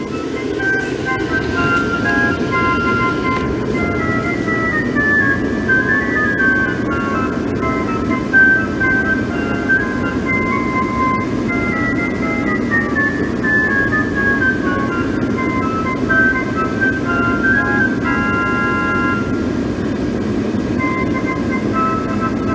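Gemmy 2018 12 ft clown archway inflatable sound box playing a tinny, carnival-like melody loop continuously at moderate volume over a steady background hum.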